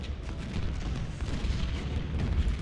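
Massed Civil War infantry volleys in the Ultimate General strategy video game: a continuous, rumbling crackle of distant musket fire that rolls on steadily without distinct single shots.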